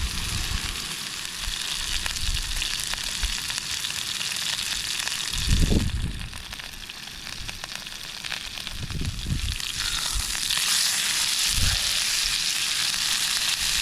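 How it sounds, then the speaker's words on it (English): Steak sizzles loudly in olive oil in a pan on a gas stove at a winter wild camp in the Pennines, with a steady hiss and crackle and a few dull knocks and shifts of the meat, no talking. "olive oil. We will have our steak and chuck it on there."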